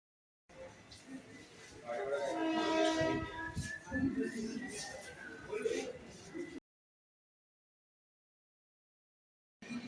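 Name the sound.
Mumbai local train at the platform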